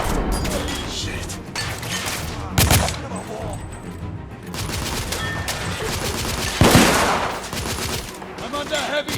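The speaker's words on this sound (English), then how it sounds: "I'm under heavy fire!" Heavy gunfire in The Order: 1886, dense overlapping shots and loud cracks from several weapons with a few bigger impacts, close and sustained amid mechanical clatter and battlefield noise.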